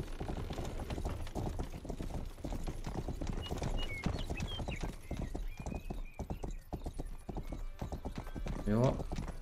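Rhythmic horse hooves clip-clopping in the video game Rustler, steady and close for the whole stretch, with a brief neigh near the end and game sounds around it.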